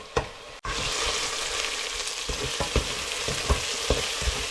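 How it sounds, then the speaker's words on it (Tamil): Onions and green chillies frying in a pan for mushroom biryani, a constant close sizzle punctuated by a string of sharp spoon scrapes and taps against the pan, with no speech. "இப்போ நல்லா இந்த வெங்காயம் வதங்கி கொண்டு வர நேரத்தில்"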